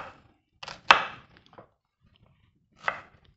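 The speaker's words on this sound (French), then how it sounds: "j'ai émincé l'oignon et l'ail" Onion and garlic being chopped on a board, a few sharp knife thunks in a short cluster followed by a pause and one more chop, close and otherwise quiet.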